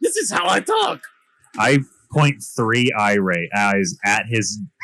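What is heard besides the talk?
No everyday noises stand out.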